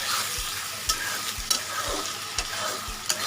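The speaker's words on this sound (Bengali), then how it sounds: "এইটাকে সুন্দর করে একটু ভেজে নেবো" Ginger, garlic and onion paste frying in a pan for a chicken dish, with a constant sizzle and regular scraping stirs about every half second, close and fairly loud.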